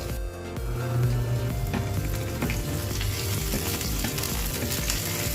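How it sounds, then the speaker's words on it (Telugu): Garlic and curry leaves frying in oil until light golden, a steady dense crackling sizzle that stays even throughout, moderately loud and close, with no talk. "ఈ వెల్లుల్లిపాయలు చక్కగా వేగాలండి కొంచెం కరివేపాకు వేసుకుని చక్కగా వేయించుకుందాం"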